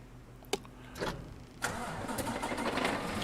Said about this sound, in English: We're going to drive this baby. The old Western Star has become my new favorite truck.